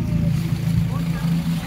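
Several boats on a river near Lama in Bandarban, a steady low motor drone rumbling close by throughout with a faint wash of background noise.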